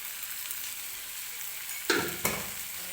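Black pavta (field bean) usal sizzling and frying in a pan with onion and salt, a steady crackle throughout, then two sharp scrapes of a spoon stirring near the end.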